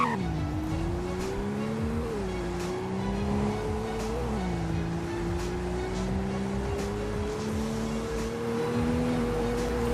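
A car in the Roblox game Greenville doing a third gear launch, its engine drone rising and slipping in pitch with a brief dip before climbing steadily, heard alone over light road noise.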